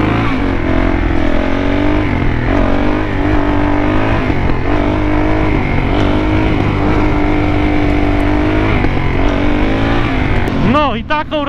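A supermoto motorcycle engine drones loud and close while riding on a chilly road, holding a high steady tone with small rises and a sharp rev near the end; a rider talks over it.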